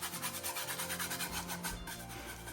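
A stencil brush rubs silver paint over a black painted base with a rapid, rhythmic scrubbing sound, close and continuous, each stroke a dry brushy swish.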